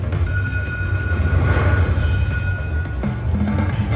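Train-themed bonus sound in the Huff N Even More Puff slot machine game, a steady loud rumbling rail clatter with sustained tonal ringing layered over it, running continuously without talk.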